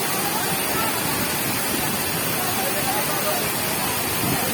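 Balagbag Falls in Real, Quezon roars as strong water pours down, a dense, steady, loud rushing that fills the whole stretch without pause.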